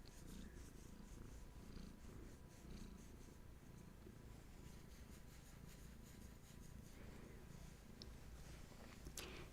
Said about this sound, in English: she jumped up and brought the purrs